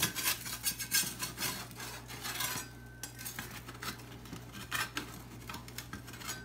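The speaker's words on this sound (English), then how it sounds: "you just use pliers for the pan" Metal pliers scrape and clink against a deep dish pizza pan while a Chicago-style deep dish pizza is pried out, giving quiet, irregular rubbing and tapping sounds close up with no talking.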